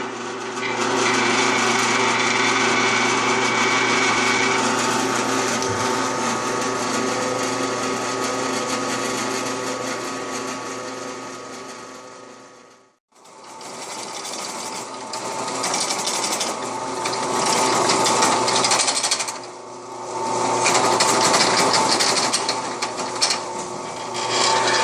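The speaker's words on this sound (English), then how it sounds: "we're going to drill the holes for the momentary switches here." A drill whines steadily as it bores holes for momentary switches in a power management unit enclosure, running long and loud, stopping briefly, then starting again with a few dips.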